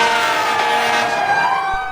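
Several sirens from ambulances, fire trucks and police vehicles blare at once at the Boston Marathon, overlapping wails sliding in pitch over rumbling traffic, loud and continuous with no voices.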